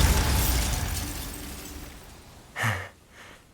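A Bombarda blasting spell from the Hogwarts Legacy video game erupts as a sudden loud burst with a low thump, fading quickly and followed by a smaller second flare, after a stretch of low rumbling ambience.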